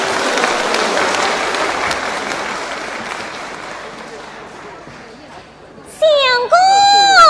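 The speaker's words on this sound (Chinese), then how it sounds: "我们掌声有请" A theatre audience at a 2006 Yue opera awards gala at Shanghai's Yifu Theatre claps loudly and densely, and the applause gradually fades over about five seconds. A voice then sings a sustained operatic line alone.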